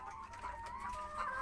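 Laying hens on a small egg farm of some 200 birds, soft overlapping clucks and murmurs heard faintly and continuously in a brief stretch with no talking.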